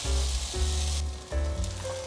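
Pieces of vegan cod keep pan-frying, producing a close, steady sizzle that dips briefly for a moment then resumes crackling.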